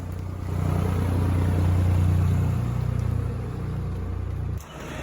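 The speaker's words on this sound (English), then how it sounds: "I can hear something big, powerful. No, it's tractor." A heavy tractor engine rumbles steadily nearby, a deep droning growl that swells and then eases before cutting off abruptly near the end.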